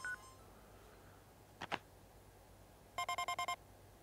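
A short run of bright electronic beeps, about six quick evenly spaced pulses, signals an incoming mail in Paper Mario: The Thousand-Year Door on Switch, preceded by a brief soft swoosh over quiet background.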